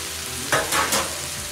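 Jackfruit and shrimp paste sauté in a pan, giving a steady sizzle with three short bursts of stirring and scraping close by and no voices.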